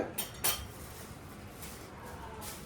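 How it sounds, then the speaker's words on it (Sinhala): Potato fries dough with oregano, salt and corn flour being mixed in a bowl, with two sharp clinks early on followed by soft, steady scraping and stirring, close and fairly quiet with no talk. "හොඳට දැන් තියෙන්නේ මික්ස් කරගන්න මේක"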